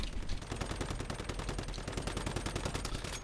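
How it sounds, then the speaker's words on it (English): In the video game Once Human, rapid automatic gunfire rattles in a fast, even burst of close shots that runs without a break. "And let's start shooting."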